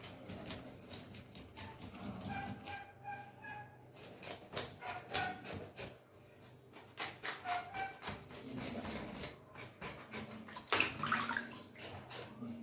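Tap water runs steadily while fish is rinsed in vinegar water at a kitchen sink, a continuous splashing wash lasting throughout with occasional clinks and light handling noises.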